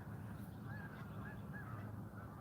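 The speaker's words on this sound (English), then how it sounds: "Come some geese." Faint geese honk in the distance, a few rising calls repeating over a steady background hum.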